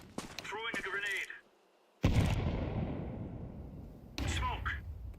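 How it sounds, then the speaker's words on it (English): A grenade explodes in a team-based first-person shooter game, a loud close blast at once with a long rumbling decay lasting several seconds, with voices talking before it and again over the fading tail. "Throwing a grenade."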